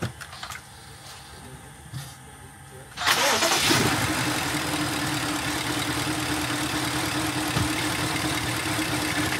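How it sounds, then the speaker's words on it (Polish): A BMW engine with a suspected Valvetronic fault cranks and catches after a jump-start booster is connected, then keeps running rough and uneven, loud and close, after a short stretch of quieter handling noise. "silnik kuleje, że tak powiem"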